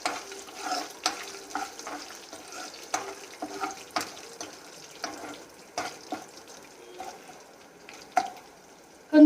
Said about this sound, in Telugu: కొంచెం లైట్గా అరోమా వచ్చే వరకు ఫ్రై చేసుకుందాం.